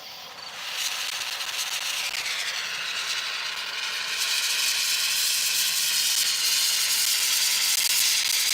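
A brazing torch flame hisses steadily and loudly up close, a broad rushing roar that swells after a second and holds strong throughout.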